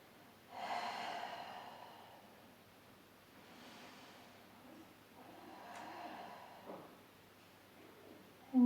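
Slow, deep exhalation during a Pilates stretch: soft breathy airflow close to the mic, a long breath out followed by another gentle breath, quiet and with no speech.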